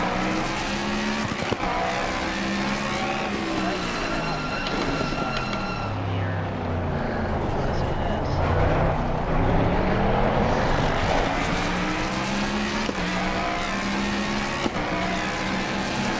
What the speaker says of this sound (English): That's just a nice sounding race car, healthy as can be